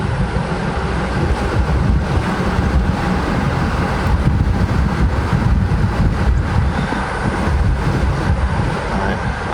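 A 1998-2003 Jaguar XJ8 X308 drives at low speed in restricted performance mode, giving a steady broadband road and wind roar from inside the cabin without a break.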